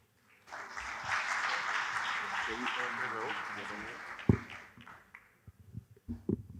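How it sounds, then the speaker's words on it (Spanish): Audience applause for an economics analyst from Universidad del Rosario at a Banca de Oportunidades event in Colombia, steady dense clapping from a crowd for about four seconds, then fading into scattered claps and light thumps. "Un aplauso para él."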